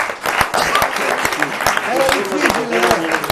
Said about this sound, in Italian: 4, un applauso!